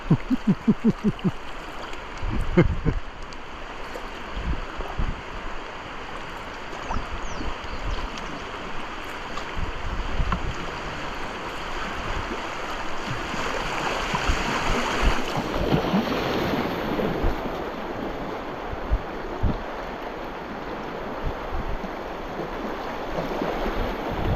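Solo kayak paddling through Class 2 rapids among boulders on the Delaware River, a steady wash of rushing water with scattered paddle splashes and knocks, some wind buffeting the microphone, moderately quiet and continuous throughout.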